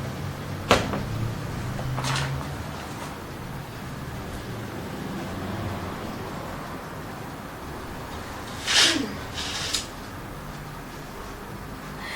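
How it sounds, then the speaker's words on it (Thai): A door shut indoors during a Thai tarot reading, heard as a couple of soft thumps and a louder knock partway through, over steady room hiss with no talk. "ขอปิดประตู เสียงดังมากเลยอะ"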